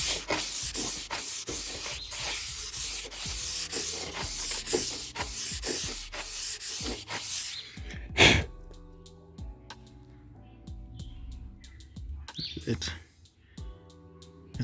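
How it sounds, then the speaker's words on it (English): Sandpaper rubbed back and forth over a fiberglass side skirt, a close, rhythmic scratchy rasp of repeated strokes that stops partway, leaving quieter scattered handling noises. "Now this sandpaper, when you're done, will leave a very smooth finish"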